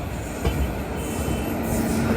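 Andaman Express passenger train rolling past on the line, a continuous loud rumble of wheels with faint squeals and a few clicks, close by with no voices.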